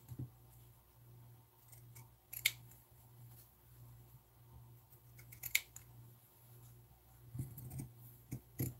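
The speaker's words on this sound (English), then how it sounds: "I'm using pinking shears" Pinking shears cut through fabric in scattered, quiet snips and crunches over a low background hum, with several sharper clicks of the blades.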